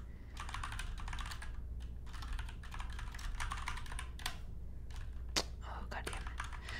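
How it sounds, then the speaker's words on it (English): Steady, close typing on a computer keyboard at a Mac, dense runs of soft key clicks broken by short pauses, with a faint low hum underneath. "Yes, I do like typing a lot."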